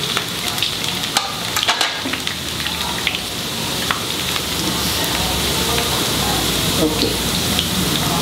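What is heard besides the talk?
chopped ginger and garlic frying for mackerel pickle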